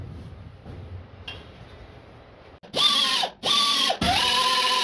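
A power driver screws a bucket seat floor bracket down to the replaced floorboard of a 1966 Comet, three loud close whirring bursts with pitch sweeps after a quiet stretch.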